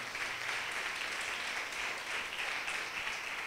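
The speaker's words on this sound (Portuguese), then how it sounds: "Dá um aplauso bem lindo ao Espírito Santo." A church congregation applauds in a steady, dense wash of clapping that holds evenly throughout at moderate loudness.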